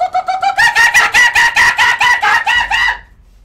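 A man vocally imitates the call of an Australian kookaburra, a loud, close burst of rising, rhythmic hooting cackles lasting about three seconds before cutting off into near silence.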